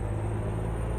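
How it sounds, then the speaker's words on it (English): A heavily loaded truck engine in American Truck Simulator labors in fifth gear, a constant low droning hum with a faint whine riding above it, steady and close. "this is struggling 5th gear"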